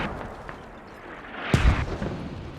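A deep, booming mortar impact lands partway through in the Squad shooter game, a single heavy low thump over a background of distant battlefield rumble and scattered faint shots.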